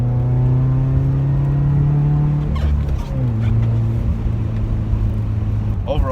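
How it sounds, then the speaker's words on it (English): A 2018 Subaru WRX fitted with a Nameless cat-back exhaust, its engine droning steadily then shifting pitch as it accelerates, with induction noise audible in the mix. "You can hear a little bit more induction noise with this exhaust as well."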